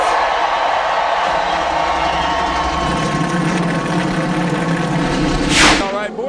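NASCAR stock car engines firing up at the 2011 Crown Royal 400 in Richmond, Virginia, a dense, steady roar of many engines idling together with crowd noise, a brief rising whine near the end.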